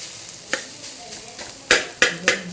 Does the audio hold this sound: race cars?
no